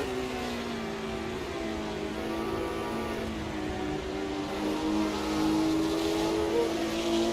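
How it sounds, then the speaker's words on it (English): Vintage 1960s racing cars led by a Ford GT40 on the Zeltweg circuit in Assetto Corsa, a steady loud engine drone with layered harmonics that rises slightly in pitch and volume toward the end, no voices. "see how much more speed we can carry through turn one before the grunt of that GT40 pulls it back ahead"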